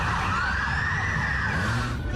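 Police sirens wail at the scene of the London Bridge attack, a loud, continuous rising and falling tone close by with traffic rumble beneath.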